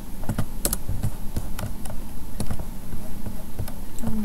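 A name is typed on a computer keyboard, with quick, irregular key clicks heard up close and continuing through the whole stretch, no speech over them.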